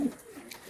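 Pigeons in a loft of Pakistani-line, teddy, kamagar and golden breeds, giving a brief low cooing call that fades quickly, with faint background noise.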